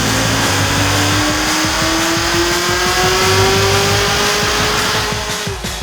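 A supercharged Camaro fitted with a ProCharger and a smaller pulley at 15 psi of boost roars through a dyno pull, its engine note climbing steadily in pitch for several seconds, loud and close, then cutting off at the end.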